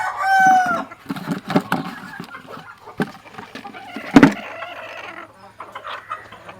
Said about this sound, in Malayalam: ഒരു ചെറിയ കോഴിയാണ്, ചെറിയ തൊപ്പിയുള്ള കോഴിയാണ്.